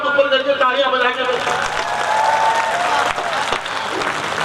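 An audience at a Hindi comic poetry recital breaks into dense applause that swells after a spoken line and continues steadily, close and loud, for a few seconds.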